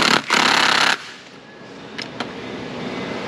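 An impact wrench torques down the wheel lug nuts on a 2007 Dodge Caravan 3.8, a loud short rattling burst up front, then quieter garage background with a couple of sharp metallic clicks.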